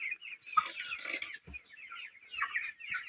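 Bangkok chickens cluck and chatter steadily at close range, with busy overlapping calls and a few soft thumps, and no talk.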